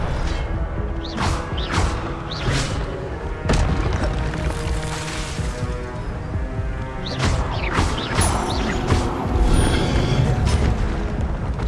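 Expelliarmus spell casts in Hogwarts Legacy during combat, loud repeated whooshing bursts and booming impacts one after another, with crashes and mechanical clatter throughout and no speech.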